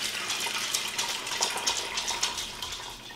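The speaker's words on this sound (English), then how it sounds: "we're going to add 4 cans of just chicken broth. I'm just going to pour it right on in there." Canned chicken broth is poured into an Instant Pot, a steady close splashing stream of liquid filling the pot for several seconds.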